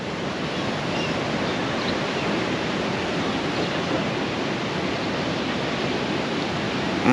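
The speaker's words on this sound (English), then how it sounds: "just look how gnarly these waves are" Rough ocean surf crashing onto a beach in Destin, a steady loud roar of breaking waves filling the whole stretch with no pauses and no talking.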